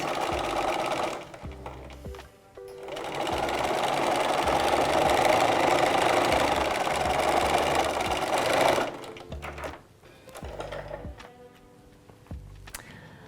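A sewing machine stitches a straight fabric seam, running steadily forward, pausing, then reversing for short backstitch bursts near the end; close, mechanical whirring with no talk.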